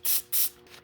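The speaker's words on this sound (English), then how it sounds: "We'll give that a spray through there." Two short, close bursts of aerosol carburetor cleaner sprayed through the carburetor parts and O-rings of a Generac GP6500/GP7500 generator, followed by a fainter third puff.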